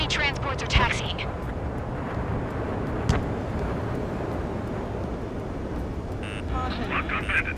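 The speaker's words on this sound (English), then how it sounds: "Enemy transports are taxiing." Enemy transport aircraft taxiing in the Ace Combat 7 video game, a steady loud jet engine roar with a brief thump early on and higher radio-like tones near the end.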